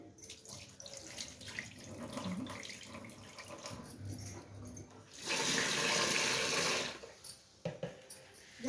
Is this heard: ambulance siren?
no